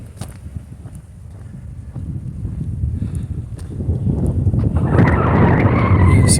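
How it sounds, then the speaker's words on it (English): Cold wind blows across a lake outdoors, a continuous rushing, buffeting roar that swells gradually and grows loudest toward the end, with no voices. "I can feel the cold wind blowing across the lake behind me from here"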